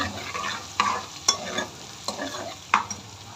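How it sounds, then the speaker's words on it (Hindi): Half a spoon of garlic-ginger paste fries with onions in a pan for a dhaba-style kaddu chana dal, giving a soft, close sizzle broken by regular scraping stirs of a spoon. "30 सेकेंड हम इसको अच्छे से जो है भूनते हैं ताकि स्मेल ना आए।"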